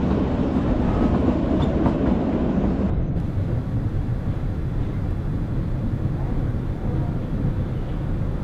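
An early morning train running from Delhi toward Shimla, heard from onboard as a loud, steady rumble with rattling and rushing noise throughout.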